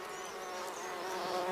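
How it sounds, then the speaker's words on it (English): African honeybees and mopani bees buzz around the bristly ball of a flower's stamens while foraging for nectar and pollen, a steady, soft, continuous drone with no voices. "Mopani and African honeybees frantically search for nectar amongst the bristles, all the while collecting pollen"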